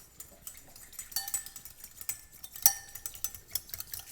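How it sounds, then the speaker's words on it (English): A whisk clicks and scrapes against a bowl while a vinaigrette of oil and salt is beaten, a quick irregular rhythm of light metallic taps with a couple of sharper clinks, close and fairly quiet. "I'm going to just stream in this while I'm whisking."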